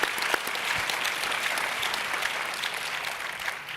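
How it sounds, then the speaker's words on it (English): Dense, sustained audience applause filling a conference hall at a closing general session, steady and fairly loud throughout with no voices on top. "Big round of applause for our great panel here."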